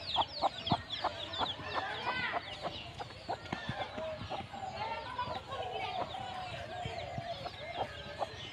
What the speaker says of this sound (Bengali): এই দেখুন মুরগি বাচ্চা।